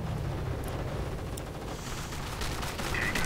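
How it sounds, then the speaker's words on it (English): Aircraft strafing gunfire in a World War II strategy video game sweeps across a battlefield as a dense, continuous roar of rapid fire blended with rumbling explosions, steady and loud throughout. "Strafing run right there."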